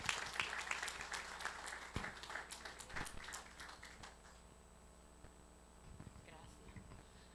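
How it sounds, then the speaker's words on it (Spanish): A church congregation at a Spanish-language service applauds, a burst of scattered clapping that thins out and fades after a few seconds, leaving quiet room sound with faint voices. "Denlo fuerte para Dios el aplauso, hermano."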